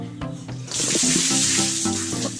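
Water pours and splashes steadily in a bucket-bath shower at a rural homestay in the Cambodian jungle, a close, continuous rush that swells louder after a brief start.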